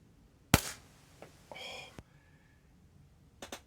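A Tokyo Marui Glock airsoft pistol running a CO2 magazine with 0.2 gram BBs fires one sharp, violent crack, followed by fainter clicks and hisses of gas in a quiet room.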